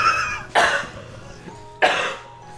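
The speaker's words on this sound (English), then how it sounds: "Stop coughing!" Two harsh, wet coughs from one person, spaced about a second apart, close and fairly loud over faint background sound, with no speech.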